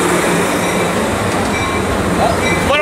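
Amtrak passenger train rolling past a railfanning spot in Fullerton, a loud steady rumble of wheels and cars with faint squeal near the end, close and continuous throughout.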